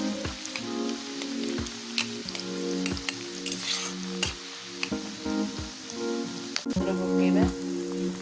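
Onions fry slowly in oil over low heat, giving a steady crackling sizzle with scattered pops and occasional stirring clatter, close and moderately loud with no talk.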